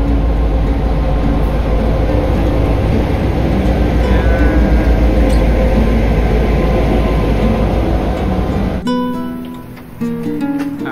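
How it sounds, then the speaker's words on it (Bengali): The Kuranda Scenic Railway train rumbles into Cairns station with a loud, steady low roar for several seconds, then cuts off, leaving a quieter platform where a voice begins speaking. "আমাদের ট্রেন এসে গেছে, ওই যে দেখা যাচ্ছে আমাদের ট্রেন।"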